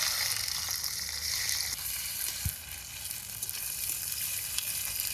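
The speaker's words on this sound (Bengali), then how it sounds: "হালকা ভাজা হয়ে গেছে, পেঁয়াজ কুচি দিয়ে দিই।" Chopped onions dropped into hot oil tempered with dried red chillies, cumin and garam masala, sizzling densely at close range, with a soft knock partway through and the crackle continuing unbroken.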